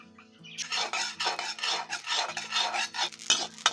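Poppy seeds dry-roasting in a pan for curry masala powder, stirred with a spoon in quick scraping, rasping strokes that come in bursts with light metallic clinks, close and fairly loud.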